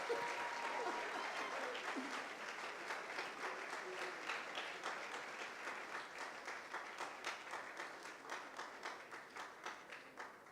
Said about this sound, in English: I know you want to clap till tomorrow